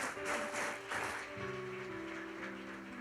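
Congregation clapping in a church service, a steady rolling applause at moderate distance with a sustained organ or keyboard chord underneath and no talking.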